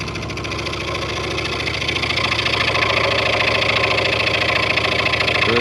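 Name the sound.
Delta scroll saw cutting wood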